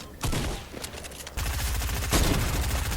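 Rapid bursts of gunfire from a Fortnite match crackle loudly and densely throughout, with a heavier sustained volley in the second half.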